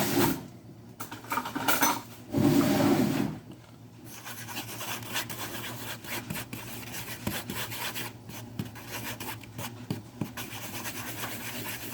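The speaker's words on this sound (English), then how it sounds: "and then a fork to mix it" A fork mixing ingredients in a bowl for an air fryer spicy chicken sandwich, giving a steady scraping, rubbing clatter with a louder burst partway through, close and without talk.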